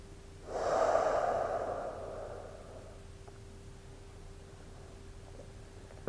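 A single long, audible exhale during a yoga power flow in Half Moon pose, swelling quickly and then fading slowly over a few seconds against a quiet room hum, with no speech.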